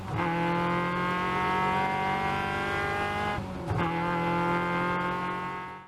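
Caterham race cars on a track in Pacific Northwest racing, a loud sustained engine note held at high revs with a brief dip and recovery midway, no talking.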